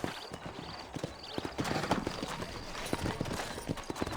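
Horse hooves clip-clop at a steady walking rhythm in the Red Dead Redemption video game, close and clear, with a horse snorting or whinnying briefly amid the footfalls.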